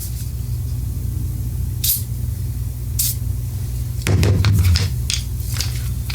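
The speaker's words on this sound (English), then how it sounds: "A little silicone on that." Silicone lubricant sprays onto a fitting of a Briggs-powered custom pressure washer during a seasonal service, with short hissing bursts and then a longer close spray over a low steady engine-like hum.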